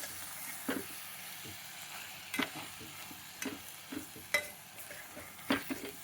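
Rice with ginger and garlic is stirred in a pan for khichdi, producing soft sizzling under intermittent scraping strokes of a utensil against the pan, close and fairly quiet.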